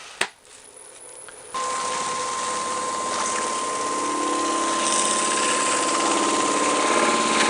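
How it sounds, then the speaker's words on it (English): A wood lathe spins a turned bowl while tung oil is rubbed in by hand; a sharp click and short lull give way to a loud, steady motor whine with a constant tone that runs to the end. "now I'm going to rub this in with a lathe running"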